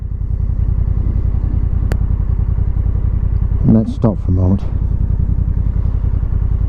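A Honda NT1100 motorcycle engine idles in neutral with a steady, close low throb throughout, while someone speaks briefly over it partway through.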